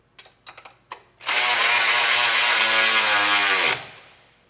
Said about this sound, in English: I'm always going to tighten these top two bolts first.